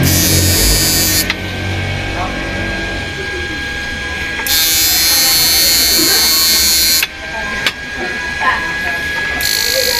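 A power inverter under repair test gives off loud, harsh electrical buzzing that switches on and off in blocks, with quieter hum and mechanical clicks in the gaps between.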